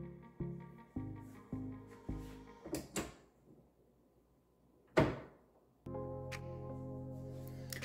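A plastic water filter compartment cover on a KitchenAid refrigerator is handled with a series of soft clicks and taps, then gives one sharp snap as it opens, quiet and close under a faint steady hum.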